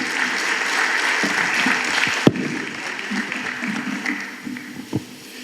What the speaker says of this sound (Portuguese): por favor un fuerte aplauso al señor Anderson Moreira